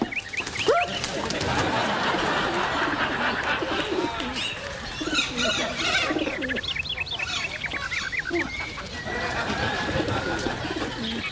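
Pigeons coo and chirp close by in a busy flurry, with some wing flapping, while people's voices talk over and among the bird calls.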